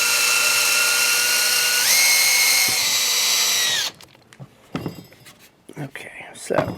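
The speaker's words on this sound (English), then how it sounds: "and then continue drilling." A power drill bores into a cracked wooden Krag rifle stock, whining steadily and rising in pitch for about four seconds before stopping. Scattered clicks and handling noises follow.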